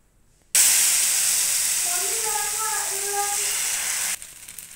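Dosa batter poured onto a hot oiled pan sizzles loudly and steadily, a bright hiss that starts suddenly and holds for several seconds before cutting off, with faint faraway speech-like tones underneath.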